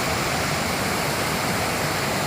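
Water rushing steadily down a stream at Firozpura Kunzar in Kashmir, coming from Gulmarg and spraying up like a fountain, a dense continuous roar with no voices or pauses.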